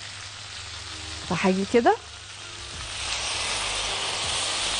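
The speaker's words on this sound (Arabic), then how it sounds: "بناخد شويه مرقه نسقيها للبصل ده علشان يبقى صوصي شويه" Broth hits a hot pan of caramelized mushrooms and onions, and a steady hissing sizzle swells and holds after a brief spoken phrase.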